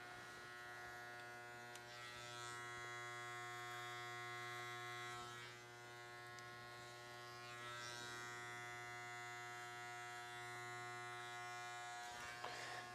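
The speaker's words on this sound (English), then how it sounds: "Just press very gently with the clipper where it's supposed to be and leave it" An electric hair clipper hums and buzzes steadily and close for the whole stretch while cutting short curly hair into a high fade, its tone shifting slightly as the blade presses against the head.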